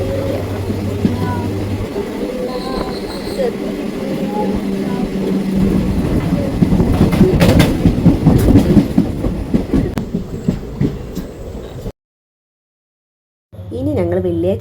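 A passenger train runs along the rails with a rumbling, rhythmic clickety-clack that grows louder midway, while voices talk nearby before the sound cuts out briefly.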